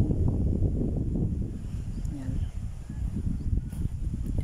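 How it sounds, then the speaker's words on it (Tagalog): Strong wind buffets the microphone in a steady low roar, with faint voices and distant surf mixed beneath it, on the beach at Laiya, Batangas. "Ang lakas ng hangin guys. Ang lakas din ng alon."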